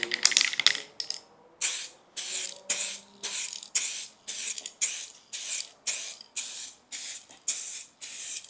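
Spray gun bursts coat the roof of a BMW V10 supercar in short, evenly spaced hissing passes, about a dozen in a steady rhythm, close and loud, with some faint clattering at the start.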